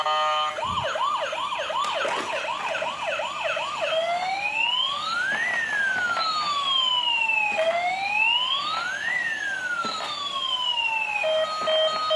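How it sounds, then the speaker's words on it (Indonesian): An ambulance siren sounds loud and alone, opening with a rapid repeating yelp that shifts into slow, sweeping rising-and-falling wails. "Mobil ambulans"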